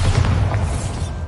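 A deep, rumbling blast from the Bombarda blasting spell in the Hogwarts Legacy video game, heavy low boom rolling steadily for over a second without a sharp single crack.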